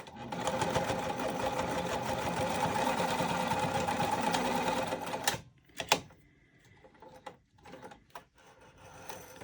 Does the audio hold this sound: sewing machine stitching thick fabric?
yes